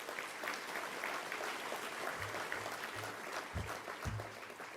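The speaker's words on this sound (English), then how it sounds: "so I'd like to give them a round of applause." Applause from an audience at an awards night speech, a steady broadband wash of many hands clapping throughout, with a few low thumps near the end.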